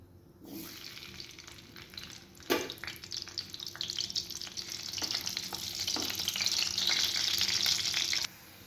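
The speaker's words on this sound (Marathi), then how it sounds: "तेल चांगलं गरम झालं की आपण कांदा टाकूया त्याच्यात." Chopped onion sizzling as it drops into hot oil for homemade pav bhaji, a steady broadband crackle that swells after the onion goes in, with a few stirring clacks and a louder hiss near the end.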